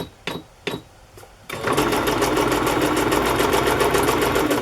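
A few separate clicks and knocks come first, then a sewing machine starts up and runs steadily, stitching a zigzag on a paper ephemera craft piece with a fast, even mechanical whir that is loud and close.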